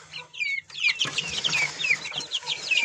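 Chickens clucking at close range, a run of quick repeated clucks and chirpy calls that thickens into steady overlapping cackling through the clip.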